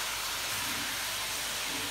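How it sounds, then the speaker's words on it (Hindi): Chicken frying in a pan, a dense, loud, continuous hiss of hot oil with no break and no talk. "ये ना हमारा चिकन फ्राई होना शुरू हो गया"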